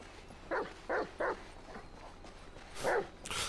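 A dog barks in Grand Theft Auto V in Los Santos, giving several short, separate barks and yips over faint background ambience, with one louder bark near the end.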